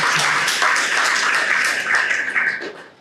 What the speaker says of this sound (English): I want to again give you all a big round of applause